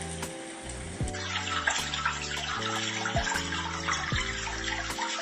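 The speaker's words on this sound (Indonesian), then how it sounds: "Ini fitur hujan." A Xiaomi Mijia portable speaker plays a rain sound effect, a steady broadband hiss of falling rain with faint electronic hum and tones underneath, no voices.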